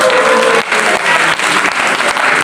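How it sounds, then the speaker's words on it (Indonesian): A church congregation at a prayer and fasting service on Mount Salak, Bogor, breaks into loud, dense applause that rolls on steadily for a couple of seconds. "Tepuk tangan, jangan tanggung-tanggung."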